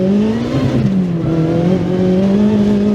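A supercharged K24 engine in a Honda Integra Type R DC5 drones loudly and continuously from close by, its pitch wavering slightly as it holds high revs, with no voices.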